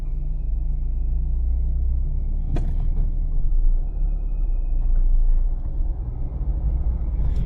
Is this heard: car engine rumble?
yes